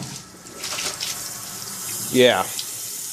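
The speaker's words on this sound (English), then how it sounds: "put this siphon tube down here, which will have the water coming out, and we're going to turn this action, and it is a powerful flow that's going to happen" Water gushes from the siphon tube of a Python clean and fill aquarium system, a rushing, splashing flow with a sharp burst near the end, as a voice briefly speaks over it.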